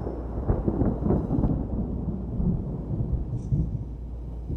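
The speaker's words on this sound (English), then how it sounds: "they headed west again in the middle of a thunderstorm" A thunderstorm rolls through, with deep, continuous thunder rumbling loud and close over a steady storm wash. No voices are heard.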